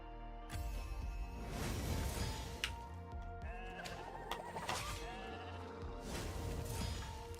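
Game sheep bleat after a polymorph spell in an arena fight. Several short bleats sound over busy combat effects, clanks and dings.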